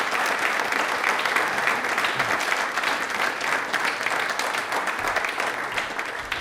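An audience gives the Prime Minister loud, sustained applause at a televised quiz show, with dense clapping filling the whole stretch at an even level and no voices over it.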